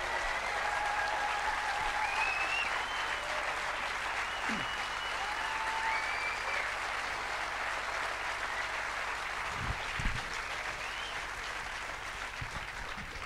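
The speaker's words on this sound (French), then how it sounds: "J'aimerais que vous l'applaudissiez parce qu'il est fantastique" A festival audience applauds a speaker with sustained, even clapping that fills the hall for over ten seconds, with a few low thumps near the end.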